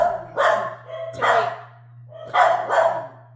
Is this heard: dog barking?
yes